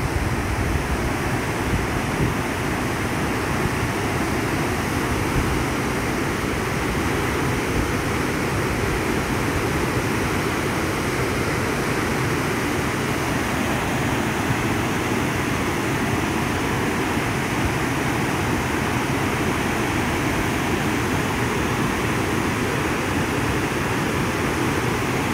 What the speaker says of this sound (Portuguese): Logo ali já é a cachoeira.